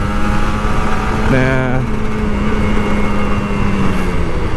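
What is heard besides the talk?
Kawasaki Ninja RR 150 motorcycle riding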